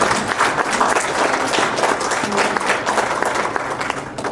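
Loud, steady clapping from an indoor audience at a political community event, continuous for a few seconds without a break.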